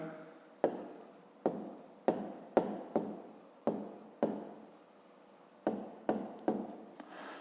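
Pen writing by hand on paper during a fifth-grade maths exercise, a run of short scratching strokes with sharp onsets and quick fades, irregular pauses between them, close and fairly quiet, with no speech.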